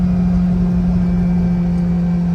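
A Kawasaki Ridge side-by-side UTV engine idles and drones steadily at a constant low pitch, close and loud, with no voices over it.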